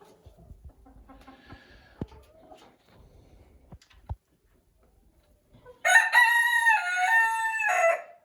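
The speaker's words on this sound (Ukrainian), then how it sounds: "Чотири півника тут." After some quiet rustling and faint clucks, a rooster lets out one loud, close crow that lasts about two seconds.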